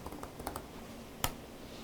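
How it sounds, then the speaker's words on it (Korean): Computer keyboard keys tapped in a short irregular burst of light clicks, close and fairly clear, with one sharper louder keystroke partway through. "이렇게 키보드가 잘 안 먹네요"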